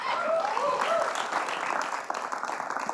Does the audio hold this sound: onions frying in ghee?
no